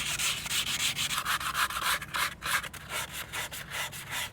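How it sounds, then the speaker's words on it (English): Aluminum mower deck sanded by hand with 400 grit sandpaper, steady rhythmic back-and-forth rubbing strokes heard up close, with no talking. "Now what I'm gonna do is take some sandpaper. I got 220, and then we're gonna step up to 400."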